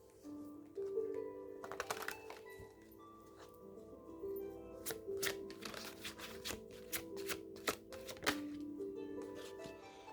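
Tarot cards being shuffled by hand, quiet close riffles and clicks in irregular bursts, growing busier after the first couple of seconds, with no talking.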